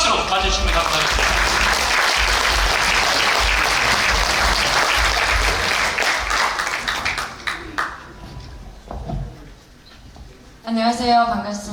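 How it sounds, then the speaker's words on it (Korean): Loud applause from a large crowd at a unification rally in a Korean National Assembly conference hall fills most of the clip, welcoming a speaker, then fades and gives way to a voice speaking near the end. "여러분 나올 때 큰 박수로 맞아주시면 감사하겠습니다"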